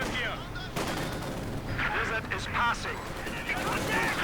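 Light machine gun fire from Soviet Guardsmen in the real-time strategy game Company of Heroes 2, rattling in bursts amid other battlefield gunfire and explosions, fairly loud and continuous, with a voice talking over it.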